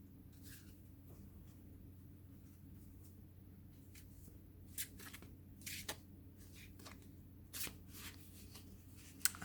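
I Ching hexagram cards are shuffled and drawn, faint papery riffles and flicks of card stock in short separate bursts over a low steady room hum, quiet and close.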